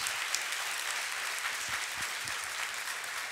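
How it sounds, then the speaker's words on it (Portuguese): A church congregation applauds during a sermon, steady brisk clapping from many hands at a moderate level, continuing evenly without talk. "Você pode levantar um aplauso ao Senhor?"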